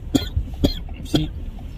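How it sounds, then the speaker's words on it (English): A man coughs three times in a quick, evenly spaced series, close and fairly loud, with no talking in between. "Why you cough so much, man?"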